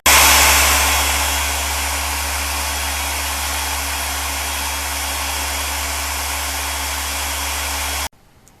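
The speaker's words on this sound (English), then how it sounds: "I've got the sander clamped in the vise" An old electric sander clamped in a vise runs with a loud, steady motor whine and hum, unbroken for about eight seconds before cutting off abruptly, leaving faint background noise and no voices.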